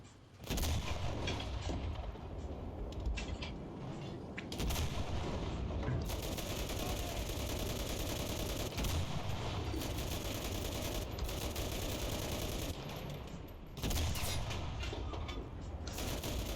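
Dense, loud gunfire from the World War II shooter game Enlisted runs almost without pause, with rapid automatic bursts and heavy booming blasts layered together and brief dips between volleys.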